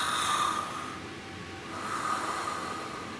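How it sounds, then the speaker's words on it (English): Oceanic breath practised by breathing in and out through the mouth gives two slow, airy, wave-like breaths, close and fairly soft, rising and falling with no talking. "It's called oceanic breath."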